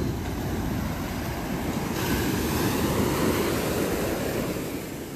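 Big surf at high tide on a Grenada beach lined with hotel sandbags, waves breaking and washing in as a continuous loud roar that swells after the second second, with no talk.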